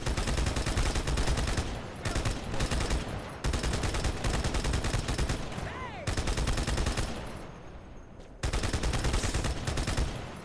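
Turret gunfire in Halo 2 Anniversary, loud dense bursts of automatic fire in long stretches with brief gaps, set among other battle noise.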